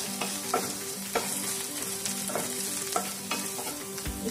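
Noodles tossed with salt and black pepper in a hot pan, a steady sizzle with repeated scraping stirs of a spatula at a fairly even rhythm, close and continuous throughout.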